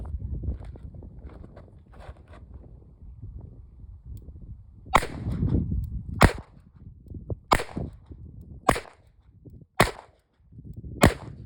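A 9mm Chiappa Rhino revolver fires Hornady Critical Defense FTX 115 grain ammunition, giving six sharp, loud shots spaced about a second or so apart outdoors after a stretch of rustling handling noise.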